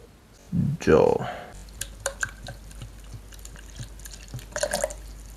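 Water, measured at 250 ml, pours into a pre-workout shaker holding one scoop of powder: a short, fairly loud gush near the start, then scattered small drips and taps against quiet room noise.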